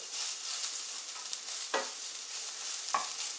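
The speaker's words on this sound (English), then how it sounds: "Just keep whisking it. This is browning up nice." Flour roux sizzling in a frying pan while being whisked, a steady close hiss with two brief scraping strokes of the whisk, no talking.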